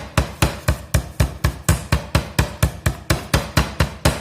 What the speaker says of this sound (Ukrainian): Ну що, я помаленьку буду відбивати молоточком.